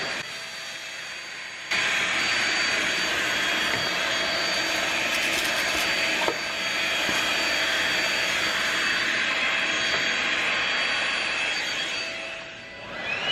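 A lightweight vacuum cleaner with a dusting tool attached directly to the body runs steadily and close by during household cleaning, a continuous airy whine that starts abruptly after a short quiet moment and holds with no talking.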